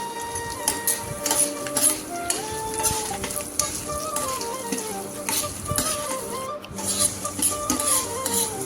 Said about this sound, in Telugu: వేసుకొని బాగా ఫ్రై చేసుకోవాలి